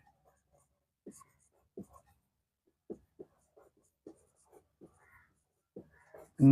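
Chalk or marker strokes on a classroom board during a Bengali grammar lesson, heard as a sparse series of short scratchy taps and squeaks spread across several seconds in an otherwise quiet room.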